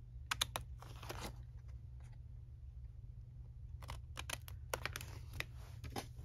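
Scissors cut paper for a vintage envelope craft with wrap-around pockets, giving quiet, close snipping clicks in two short clusters over a low steady hum.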